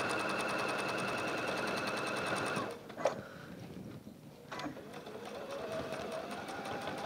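A sewing machine runs steadily, stitching loose ends along a seam in William Morris tapestry fabric, pausing briefly midway with a couple of small clicks before the even whirring resumes.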